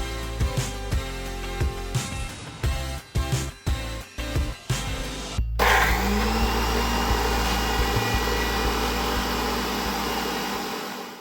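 An electric blender grinds coriander, ginger, garlic, chili and curd into paste, starting with several short pulsed bursts, then settling into a loud, steady whirring drone that runs continuously to the end.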